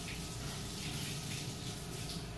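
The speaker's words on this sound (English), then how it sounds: "So I'm just going to rinse it under a little bit of water to help pull the skin off." Tap water runs steadily over charred roasted poblano peppers in a sink, a continuous splashing rush at moderate level with no talking.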